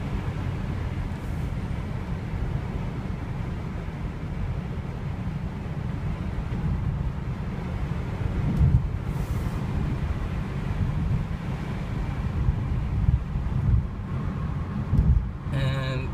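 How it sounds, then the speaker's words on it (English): Steady loud wind roar through an open panoramic glass sunroof of a 2015-2016 Mercedes-Benz C-Class sedan while driving, a continuous low rushing noise filling the cabin with a few brief bumps. "You can hear how loud that sunroof is when it's open."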